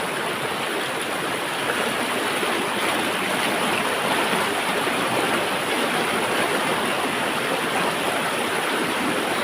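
Clear river stream in a village in the interior of Kalimantan, flowing steadily with a dense, unbroken rush of water held at an even level throughout, close to the listener and without any voices.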